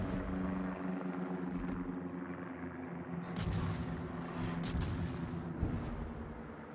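Warship guns firing in World of Warships: a few heavy booming shots ring out over a steady low rumble of engines and sea, fairly distant and spaced apart.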